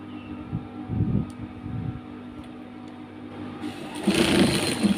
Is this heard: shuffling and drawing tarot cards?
no